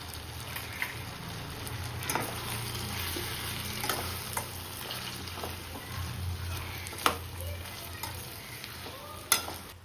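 Vegetables with turmeric, asafoetida and salt sizzle and fry steadily in a pan for arachuvitta sambar, with occasional clinks and scrapes of stirring over the continuous crackle.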